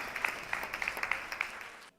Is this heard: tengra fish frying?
no